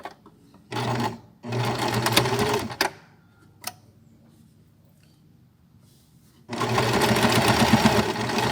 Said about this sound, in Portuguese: Vou costurar toda a volta e terminar a costura onde eu comecei